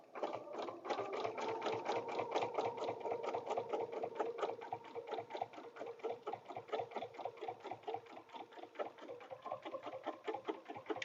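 A sewing machine stitches through a paper-pieced butterfly template for a dresser scarf, a quick steady mechanical whir with fine rattling stitches, running continuously and fairly quiet, with no talking.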